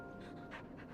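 A dog in the video game Final Fantasy XVI pants quietly in quick, rhythmic breaths, faint and brief.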